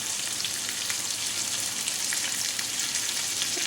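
Fish pieces for an Indian fish fry crackle steadily in hot oil, a dense continuous sizzle with scattered sharp pops close by and no voices.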